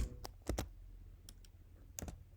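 Fast, irregular keystrokes on a computer keyboard while coding in Swift, crisp close clicks in small bursts with brief gaps between.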